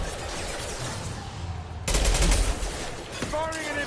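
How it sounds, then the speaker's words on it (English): A burst of weapon fire from an impact shot in Mass Effect Legendary Edition, a loud sudden blast that opens a sharp rise in level over a busy game soundscape, with a voice cutting in at the end. "Firing an impact shot!"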